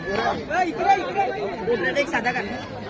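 Excited crowd chatter and overlapping voices celebrate at a bullock cart race ground after a winning pair of bullocks, Dolphin and Rana, take the gulal; busy, continuous hubbub from nearby people talking at once.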